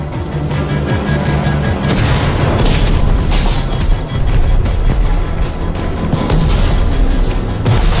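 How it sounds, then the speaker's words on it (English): Fireworks explode repeatedly in the Minecraft: Story Mode video game, a loud, dense run of booms and crackling bursts layered over game background sound, continuous for several seconds with no speech. "Fireworks!"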